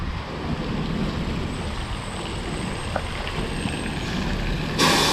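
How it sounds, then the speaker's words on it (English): Waterfall in Salem, Massachusetts, heard as a steady broadband rushing roar of falling water, continuous and fairly loud with some wind buffeting on the microphone. "Look at this waterfalls over here."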